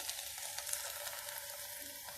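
Karela stuffing masala of fried spices, green chillies and ginger-garlic paste, thinned with half a cup of water, sizzles and bubbles steadily in a pan while being lightly stirred, a close, continuous hiss.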